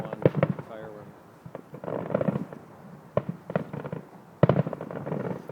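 Fireworks burst at the Calgary Stampede, with sharp crackling pops and booming explosions at irregular intervals, heard from a distance under people chatting nearby.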